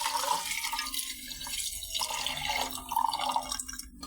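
Soursop leaves are washed under running tap water, making a steady close splash and trickle with small drips and rustles as the leaves are handled.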